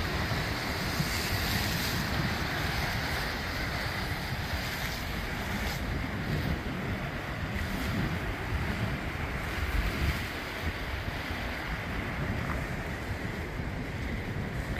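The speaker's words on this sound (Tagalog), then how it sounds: "Napakasarap pakinggan ng sounds ng waves." Ocean waves wash steadily against the sharp rocks of John Smith's Bay in Bermuda, a loud, continuous roar of surf mixed with gusting wind buffeting the microphone, and no voices.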